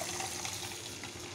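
Water is poured into a cooking pan of sautéed onions while rava upma is made, giving a brief, steady rushing pour close by.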